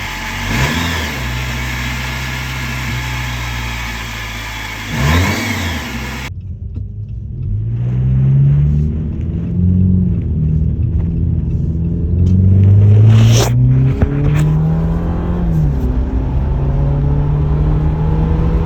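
A Jeep JL 2.0 engine with a K&N aftermarket air intake revs hard several times, rising and falling, then settles into a deep idle with more throttle blips; loud and close, after a brief noisy stretch.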